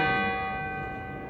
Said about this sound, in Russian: Я опять попала на звон колокольный.